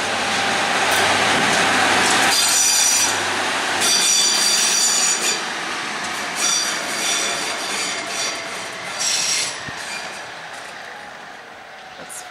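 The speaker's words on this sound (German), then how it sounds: "Jetzt fährt sie aktuell ins Auszuggleis" A train rolls slowly into a siding track beside the entrance of St. Moritz station, with a broad rumble, high wheel squeal and shifting hiss that fades gradually over the span.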